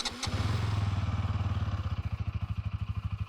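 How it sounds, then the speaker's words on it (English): A 2023 Bajaj Pulsar NS200 motorcycle idles close by, its exhaust giving a steady, rapid, loud low thumping pulse throughout after a brief clatter at the start. "That's how it sounds at idle."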